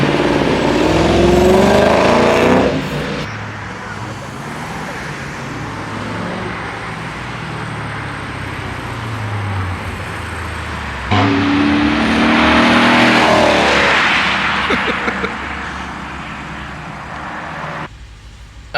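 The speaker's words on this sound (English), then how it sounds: "the exhaust sounds pretty tame from the inside" A Lexus GSF fitted with an Apexi midpipe exhaust drives along, heard from inside the cabin as a steady, fairly subdued engine drone, with louder revving surges at the start and again partway through.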